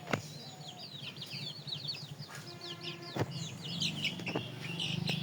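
Chickens and small chicks cluck and peep in a quiet household yard at seven in the morning, with scattered calls near and far, a steady chorus of chirping, and a few sharp knocks.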